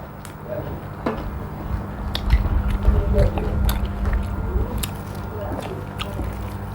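Moist biting and chewing of bitter raw larb eaten with fresh vegetables, close and steady with irregular crunchy clicks over a soft background murmur.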